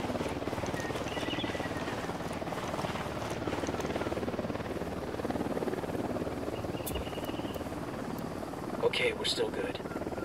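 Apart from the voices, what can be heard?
helicopters in video game Ghost Recon: Wildlands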